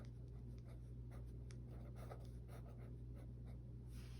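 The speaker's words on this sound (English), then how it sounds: "I'm going to write 80 degrees Fahrenheit, and I'm going to write it out too." Pen writing on paper while notes are copied out, a steady soft scratching of short strokes over a constant low hum, close and fairly quiet with no talking.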